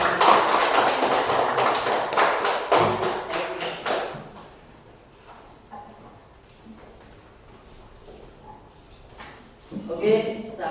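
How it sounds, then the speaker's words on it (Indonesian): Fifth-grade primary school pupils clap for a classmate in a classroom, a dense burst of close applause for about four seconds that fades out, with a teacher's voice heard afterward. "Beri aplaus yang meriah untuk teman kalian."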